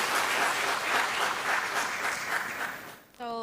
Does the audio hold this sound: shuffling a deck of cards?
no